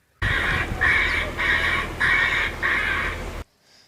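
A bird repeller device at a grain storage site blares five loud, evenly spaced harsh cawing scare calls, each about half a second long, then stops abruptly.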